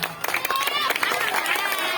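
Schoolchildren applaud a firefighters' demonstration at an elementary school, a dense burst of many small hands clapping steadily for about two seconds amid crowd noise and some voices.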